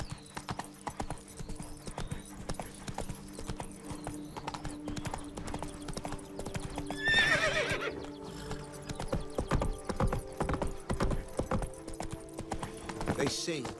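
Roach, Geralt's horse in The Witcher 3: Wild Hunt, gallops with steady rapid hoofbeats and gives a loud whinny midway, over game music and ambience.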